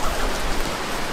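Steady rain falls outdoors during an autumn photo shoot, a dense, even hiss of drops hitting surfaces, loud and close throughout with no voices.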